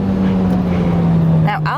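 An Alpine A110 S with a 1.8-liter four-cylinder engine drones loudly at a steady pitch, with a voice talking over it near the end.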